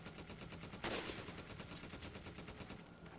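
Rapid sniper rifle and gunfire bursts from Resident Evil 5 crack continuously, with one sharp louder shot near the start, and no talking.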